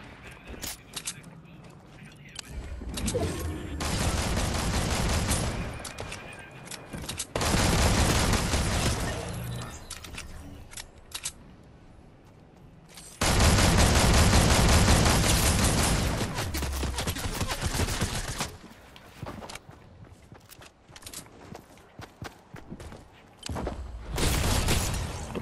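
Thermal assault rifle fire in Fortnite, coming as long loud bursts of rapid shots separated by quieter gaps, with voices talking in between.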